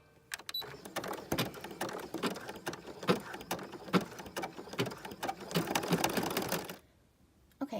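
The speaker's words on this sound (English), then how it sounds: "So let's go ahead and sew the middles real fast." An embroidery sewing machine stitches an in-the-hoop angel snap tab design, giving a fast, steady mechanical chatter of needle strokes with brief pauses, running close and alone for about seven seconds before stopping.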